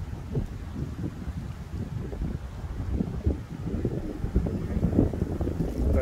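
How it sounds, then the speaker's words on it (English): Strong outdoor wind buffets the microphone, producing a continuous heavy, gusting rumble that swells and dips throughout without any voices. "It's very windy out today."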